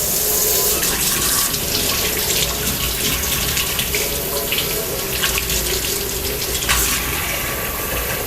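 Cold water runs steadily from a kitchen tap into a sink, a loud continuous splashing hiss that carries on without a break for the whole stretch, with no voices over it.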